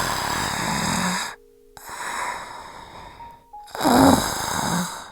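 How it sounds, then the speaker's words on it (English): A witch's slow, heavy breathing, rasping and snore-like, in long drawn breaths broken by short pauses, close and alone with a soft low hum beneath. "The witch's breathing continued."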